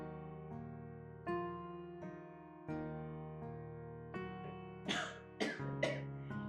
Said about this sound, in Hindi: पापा को खांसी हो रही है